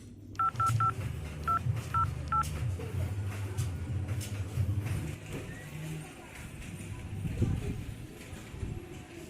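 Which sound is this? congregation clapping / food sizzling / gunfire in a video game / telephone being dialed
telephone being dialed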